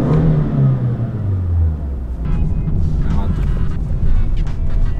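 A car engine hums low and steady from inside the cabin while driving, with a falling rev sweep early on and road and wind noise beneath someone talking.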